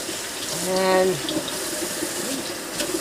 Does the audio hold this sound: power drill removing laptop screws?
no